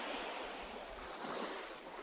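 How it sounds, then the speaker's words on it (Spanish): Steady rush of sea waves washing onto a beach at Telchac, a continuous broad surf hiss with light wind, no voices. "Ok, ya viste el mar."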